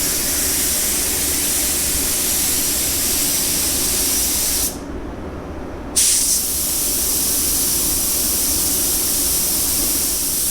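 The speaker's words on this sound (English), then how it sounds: "we'll do a little spray out card and see." A paint spray gun hisses continuously and loudly while spraying a spray-out card in a shop working on a Foxbody Mustang, with a brief pause in the trigger before the steady spray resumes.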